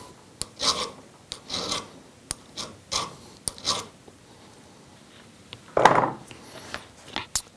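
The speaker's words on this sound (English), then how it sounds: "now you're in a good position to file the center conductor to length so it matches the cutting guide" Metal file rasping the center conductor of a 5/8-inch Heliax coax cable to length against a cutting guide, in short rhythmic close strokes separated by pauses.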